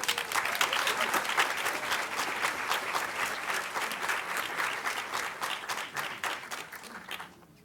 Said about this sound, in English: please, round of applause for Dr. Engstrom